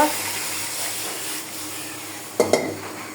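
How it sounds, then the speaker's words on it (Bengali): Water added to a pot of chicken jhol (chicken curry) makes a steady sizzle and stirring hiss. Two sharp splashy bursts come close together near the end. "পানি অ্যাড করে দিলাম।"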